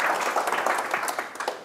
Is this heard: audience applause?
yes